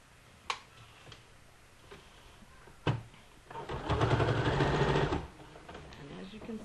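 A sewing machine stitches elastic on a cloth diaper, running in a fairly loud burst for just over a second after a few sharp clicks and taps. Light handling noises follow.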